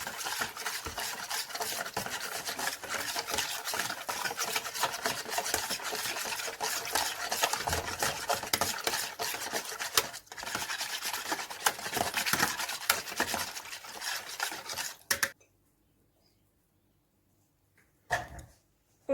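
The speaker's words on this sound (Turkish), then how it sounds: "Bunu da karıştırıyoruz." Pizza dough mixture being stirred in a bowl, a steady, continuous scraping and rubbing close by for about fifteen seconds, then stopping into near silence with one brief clatter afterward.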